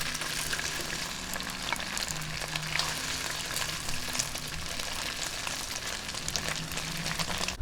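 Chicken breast sizzles and crackles steadily in a pan of hot oil as it fries to golden brown, a busy, continuous spatter at moderate volume.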